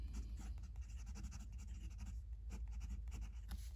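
A Moonman Q1 fountain pen with a steel fine nib, inked in green, scratches across paper in quick, close strokes, a soft continuous scribbling that stays quiet and near with no talking.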